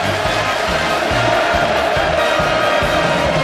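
Large crowd at a socialist constitution 50th anniversary rally cheering and shouting hurrahs, a loud, continuous dense roar with rhythmic chanted pulses.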